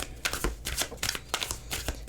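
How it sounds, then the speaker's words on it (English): Star Spinner tarot cards being side shuffled by hand, a run of quick papery riffling bursts in an uneven rhythm, close and fairly quiet with no talking. "Okay, so side shuffle."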